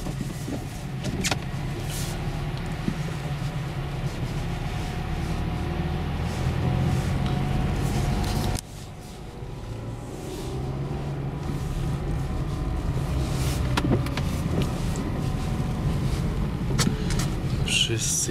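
A car rolls along a snowy road on Dębica Frigo HP2 winter tires, with steady road and engine noise throughout and a brief dip in the middle, while someone talks over it.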